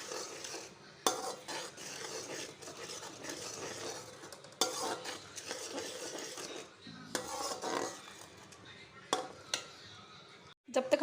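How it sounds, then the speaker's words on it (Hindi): Onions roasting in a pan give a steady sizzle, broken by repeated scraping and stirring strokes and occasional clatter of the spoon against the metal, close and moderately loud throughout. "इसको हम भून लेंगे अच्छे से प्याज को।"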